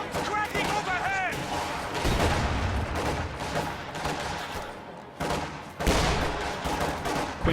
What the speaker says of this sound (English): Rounds cracking overhead!